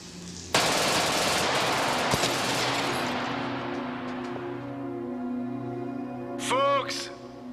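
Gunfire in a shootout: a sudden loud burst of rapid automatic shots fades into a long echoing rumble, followed by a short ringing metallic sound near the end, with a voice faintly underneath.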